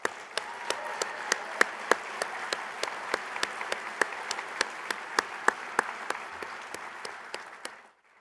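An audience at a State of SVA event applauds steadily with sharp, close claps over a dense crowd wash, sustained for about eight seconds before cutting off.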